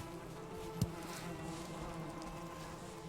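Bees drone steadily around beehives at a camp in the video game Valheim, a continuous buzzing hum with one brief soft knock partway through.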